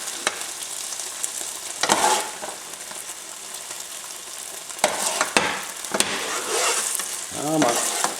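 Beef stir-fries in a pan with a steady close hiss and sizzle, broken by a few louder bursts of scraping and tossing, and no voices.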